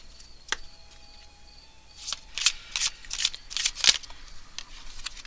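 Tarot cards being shuffled in a run of crisp riffling bursts, faint at first and then several close, rapid flutters in a row with no talking.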